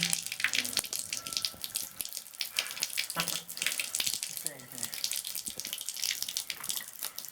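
Household tap running again after a water main failure, water splashing and gushing steadily into a sink at close range, fairly quiet, with faint voice-like sounds in the background.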